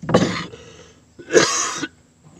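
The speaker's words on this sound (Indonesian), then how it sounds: "Ini lagi batuk." Two harsh coughs, close by, separated by a short pause; the second is a longer, rattling burst. No talking.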